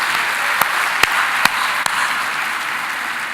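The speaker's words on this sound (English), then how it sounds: "Give yourself a round of applause" An audience at a chamber of commerce teacher appreciation event applauds in a loud, sustained wash of clapping, with a few sharper individual claps standing out near the start.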